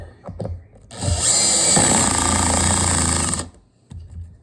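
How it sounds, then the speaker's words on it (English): A power drill driving a screw while a medicine cabinet is installed, a loud steady whirring run of about two and a half seconds with a high whine, framed by brief handling clicks. "If you are going to use a drill, make sure that that clutch is way back to like 1."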